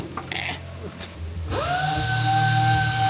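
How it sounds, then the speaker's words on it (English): A battery-powered Ryobi orbital sander whines up to a steady high speed in the second half of the clip, loud and close, with brief workshop clatter before it starts. "we're gonna have to get that little orbital sander and go try to go deep"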